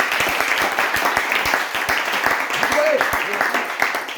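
A church congregation claps in a quick, steady rhythm throughout, with a voice speaking over the clapping.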